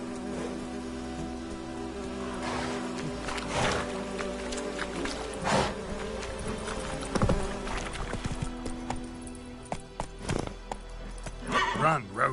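Witcher 3's horse Roach gallops in a steady clip-clop of hooves beneath game music and ambient buzzing, with a voice speaking over the ride now and then.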